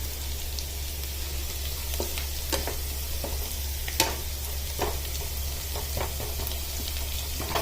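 Garlic and potatoes frying in a pan give a steady, loud sizzle, broken by scattered crackles and pops and a few spoon scrapes.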